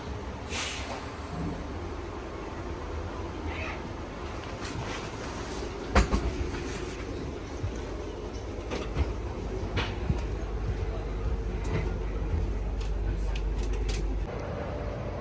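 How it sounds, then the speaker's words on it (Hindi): Busy Vienna international railway station at night, a steady low rumble of trains and platform machinery with scattered clanks and knocks, a sharp bang near the middle, and faint voices in the background. "तो ये वियना का इंटरनेशनल स्टेशन है, काफ़ी खूबसूरत और साफ़ सुथरा है।"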